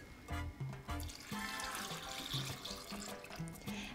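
Milk pours steadily into a blender jug with a continuous splashing gurgle, while a low tonal melody plays underneath throughout.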